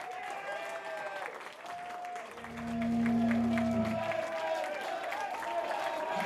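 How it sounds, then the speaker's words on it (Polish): An audience applauds the winners of a contest, a dense wash of clapping with some cheering that swells louder midway and stays strong, while other voices and tones sound alongside. "wielkie brawa dla nich!"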